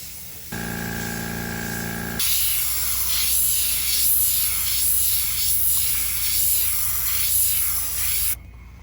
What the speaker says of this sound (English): let's see what it looks like to spray at this point